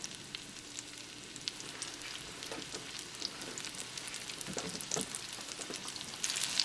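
Atlantic salmon coated in oats sizzles quietly in a pan over low gas, a soft, continuous frying crackle with scattered pops.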